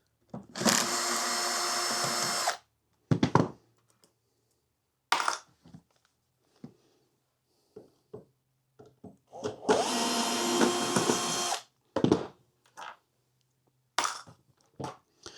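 Screws are backed out of an amplifier cabinet chassis with a powered driver, giving two long loud whirring bursts separated by short clicks and taps, fairly close and with no speech.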